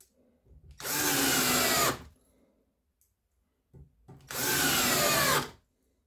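A 9-year-old cordless screwdriver drives screws in two separate bursts, each a loud whirring run lasting about a second, with quiet gaps and faint handling clicks between them.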